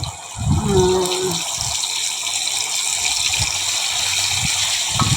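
Water gushes into a pan of ground roasted-coconut paste for fish curry, followed by a steady hiss of liquid and faint clatter close by.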